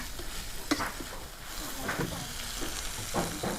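Pork stir-frying in a pan for a simple vegetable stir-fry, with a steady low sizzle and intermittent scraping stirs and clinks of a utensil against the pan, close and moderately loud with no talking.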